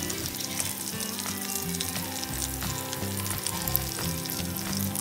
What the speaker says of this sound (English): Ewan ko ba pag may naririnig akong ganitong prito, natutuwa ako.